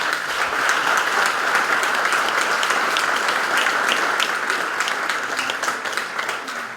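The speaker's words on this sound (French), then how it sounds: "On peut les applaudir." Audience at a July 2017 election event applauding the elected officials, steady dense clapping from many hands that fades slightly at the end.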